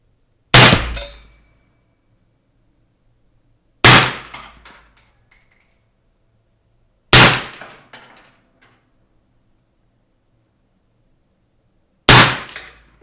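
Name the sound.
AR-15 SBR rifle gunshots at range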